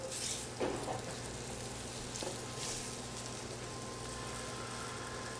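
Floured beef chunks browning in hot grease in a pot for beef stew, giving a steady, even sizzle with a few brief louder crackles near the start.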